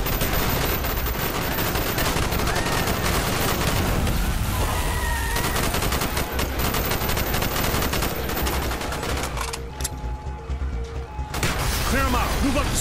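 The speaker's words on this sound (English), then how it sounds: "Bowman, Carlos, lay down covering fire" Sustained gunfire during a street fight in Call of Duty Black Ops, dense loud bursts of automatic fire and overlapping shots rolling on without pause, with voices shouting beneath the battle noise.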